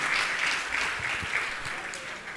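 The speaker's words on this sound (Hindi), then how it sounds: "जोरदार तालियां करके सम्मान करें।" An audience at a Jain religious gathering with Muni Shri Praman Sagar applauds, a sustained crowd clapping that stays fairly loud and even, with a few individual claps standing out.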